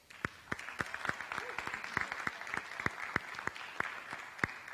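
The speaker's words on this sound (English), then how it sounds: "If we could give him a round of applause." Faint applause from a town hall meeting audience, a thin background of scattered clapping with a few sharper, louder claps standing out near the microphone at an uneven pace.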